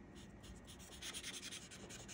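A marker or pen colors the centers of stamped Easter lilies on a handmade card, giving a faint, continuous scratchy rubbing of quick strokes on paper, close and quiet.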